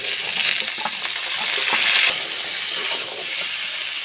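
Diced potatoes dropped into hot oil already tempered with whole spices and fried green chilli, frying for a potato curry: a steady, loud sizzling hiss that swells briefly partway through, with no talking.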